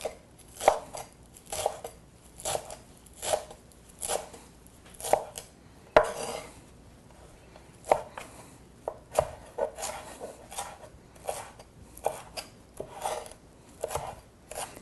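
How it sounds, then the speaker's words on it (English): Knife roughly chopping a rolled-up handful of fresh cilantro on a cutting board, a steady run of crisp, close taps in uneven bursts, heard alone without talk. "this is a nice, just a rough chop on this"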